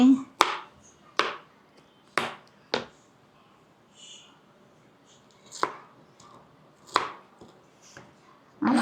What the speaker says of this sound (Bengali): এই যে আনারসের ভর্তা এগুলোকে কুচি কুচি করে কেটে নিচ্ছি